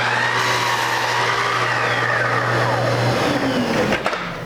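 A miter saw whines loudly and steadily while cutting molding for a Greek Revival Victorian window head, then spins down near the end.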